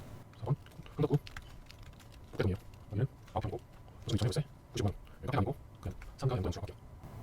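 Computer keyboard keys pressed in short clustered bursts while editing in Photoshop, close and crisp, with a voice talking over the clicks.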